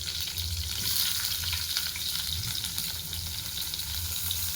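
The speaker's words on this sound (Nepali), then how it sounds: "म तेलमा जीरा हाल्दैछु। अब चाहिँ यसमा प्याज हाल्दैछु म।" Onions sizzling with cumin in hot oil in a kadai, a steady, close frying hiss that runs throughout with faint stirring underneath and no speech.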